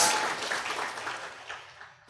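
Audience applause at a business seminar fills the hall as a broad, steady wash of clapping that gradually fades, ending with a brief louder burst at the very end.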